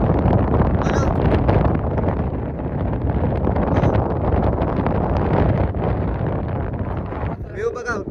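Strong wind buffets the microphone at the top of a tower, a loud, continuous roaring rush with no break throughout.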